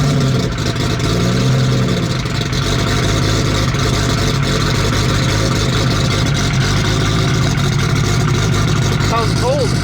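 A Toyota Supra engine idles rough during a cold warm-up, a steady, loud low rumble that holds throughout with people talking over it.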